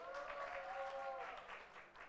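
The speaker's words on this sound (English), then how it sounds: "Please clap for Ella." Audience applause at a media fellowship graduation ceremony, a steady wash of many hands clapping that holds for the whole stretch, fairly close, with a faint voice tone drifting underneath early on.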